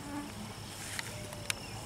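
Bees and gnats buzz around an open beehive during an inspection after the box has been smoked, a faint, steady insect hum with a couple of small clicks and no talking.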